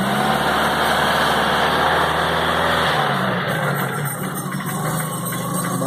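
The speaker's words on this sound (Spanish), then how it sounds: "El vehículo no anda catalizador, también suena por eso más ruidoso." A Kia Rio engine idling with no catalytic converter, a loud, steady, raspy drone that stays constant close by, its low rumble easing slightly partway through.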